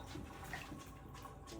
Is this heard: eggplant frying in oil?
no